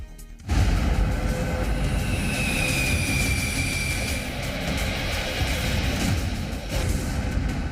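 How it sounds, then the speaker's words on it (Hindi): An Indian Air Force Rafale fighter jet roars continuously and loudly overhead, a broad steady engine rush with a rising whine. "आसमान में भारत का सबसे एडवांस फाइटर जेट रफाल उड़ान भर रहा था"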